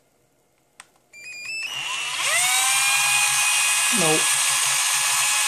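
A cordless screwdriver powered at 12V from a bench supply spins up with a rising electric motor whine, then holds a steady high-pitched buzz at close range; a brief word is spoken near the start.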